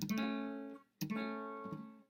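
Two acoustic guitar chords, badly fretted by a beginner, strummed one after another, each ringing out with a slightly buzzy, unclean tone before fading.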